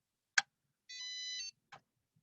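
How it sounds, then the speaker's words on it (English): A ballot voting machine being switched on at a poll worker training gives a single steady electronic beep lasting about half a second, set between two short clicks in an otherwise quiet room. "push on the on button until you hear it beep"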